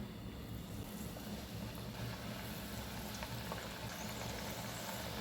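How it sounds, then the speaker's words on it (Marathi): Butter chakli spirals frying in hot oil in a kadhai over medium gas flame, giving a steady, continuous bubbling sizzle throughout, fairly close and even in level, with no voices. "गॅसवर कढईमध्ये चकली तळण्यासाठी तेल तापत ठेवलं आहे।"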